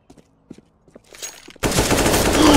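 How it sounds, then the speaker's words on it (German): Gunfire through a wall in Counter-Strike: Global Offensive on the Canals map, a few faint scattered clicks and footsteps, then a sudden loud sustained burst of automatic fire filling the end. "Schieß durch die Wand."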